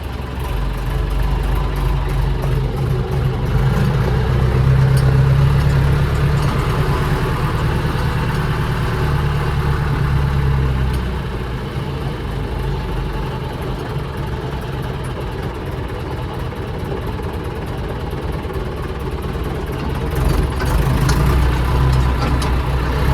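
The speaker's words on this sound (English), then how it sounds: "turn the revs down low and just let it tick over slowly" A tractor engine ticks over at low revs during muck spreading, a low, steady, continuous rumble swelling slightly louder at the start and again near the end, with no voices.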